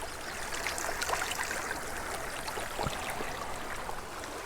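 A tiny spring creek with trout trickles and burbles quietly, a soft continuous flow dotted with small splashes and gurgles, heard alone.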